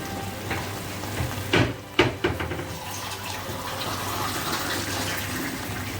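Water splashes into jaggery cooking in a pan and sets off a loud hiss, followed by a softer, steady sizzle and bubbling that carries on afterward.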